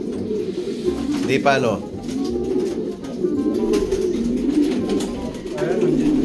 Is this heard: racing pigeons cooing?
yes